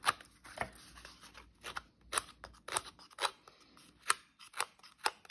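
Scissors snip through paper while a junk journal tag pocket is cut out, a series of crisp, close cuts in an irregular rhythm separated by brief pauses of quiet.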